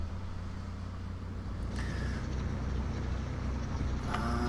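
A tractor pulling an Agromet hay rake in Farming Simulator 2013 drones steadily with a low engine hum and faint mechanical rattling, continuous and moderately close, without any talking.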